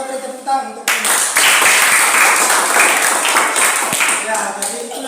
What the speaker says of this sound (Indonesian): kita beri tepuk tangan untuk ini